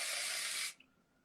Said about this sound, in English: I'm using the Life Styler Volume and Texture Spray by R&Co Blue